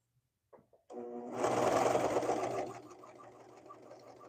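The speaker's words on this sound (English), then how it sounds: "Trying to be slow and gentle with the serger." A serger runs as it stitches fabric, giving a few soft clicks before a steady mechanical whirr starts up. It swells louder, then slows and fades into a lighter rattle, close and alone.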